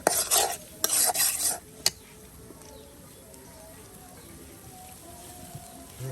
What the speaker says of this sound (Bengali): এই দেখুন ডিম দিয়ে কিন্তু এই যে পেঁয়াজ মরিচ সব কিছু একদম ভাজা ভাজা করে নেওয়া হচ্ছে